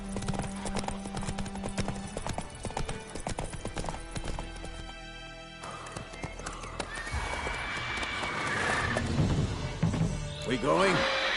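Hooves of Roach, a horse in The Witcher 3, clip-clop at a gallop, with a whinny, a crash and game sounds, while voices talk over the action.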